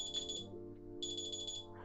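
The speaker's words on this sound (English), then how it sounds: "My phone just went off." Smartphone ringing after being triggered by a smartwatch's find-phone function, a repeating electronic ringtone with high beeping pulses over a melodic tone, moderately quiet and close.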